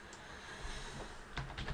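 Clicky keystrokes typed on a computer keyboard while using remote-desktop software, a steady patter of taps at close range with a short burst of louder key presses near the end, no voices.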